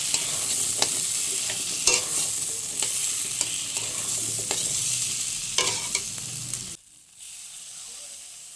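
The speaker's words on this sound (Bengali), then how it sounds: "তারপর আলু দিয়ে দেবো কড়ার মধ্যে। একটুখানি নাড়লাম।" Potatoes fry in oil in a kadai while a spatula stirs them, giving a steady close sizzle with sharp scraping clicks; the noise drops away abruptly near the end, leaving a faint hush.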